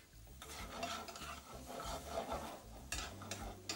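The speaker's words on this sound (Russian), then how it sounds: "Поэтому пора класть кальмары. Я хочу сначала обжарить их с луком и с чесноком." Squid tossed in a pan with onion and garlic: quiet, steady frying hiss mixed with rough scraping and stirring of a utensil, continuous and close, no voices.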